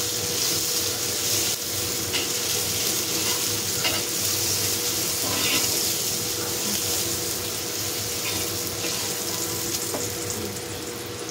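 Steady, loud sizzling of garlic frying in oil, with occasional stirring clicks throughout and no talking.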